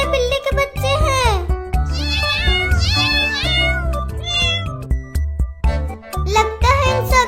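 Several hungry kittens meow repeatedly in high, wavering cries, loud and close, overlapping one another while a voice talks over them.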